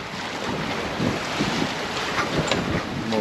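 A sailboat making about 6 to 7 knots on a crossing from Morocco to Spain, with strong wind roaring across the microphone and waves washing and slapping against the hull, loud and continuous with no voices.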